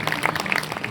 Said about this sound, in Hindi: सब एक बार अपने अपने लिए तालियां बजा लें।